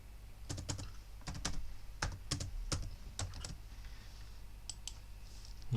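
Password keys tapped on a computer keyboard in short irregular bursts of crisp clicks, close and quiet, with pauses between groups of keystrokes and no talk.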